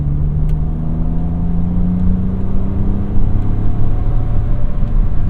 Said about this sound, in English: This engine's so smooth.